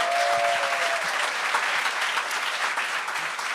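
Steady applause from a television game show audience, a dense wash of clapping hands that holds at a constant level throughout.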